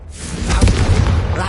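A loud booming blast from the Confringo fire spell in the Hogwarts Legacy video game, a single heavy explosion that rolls on with a rumbling tail.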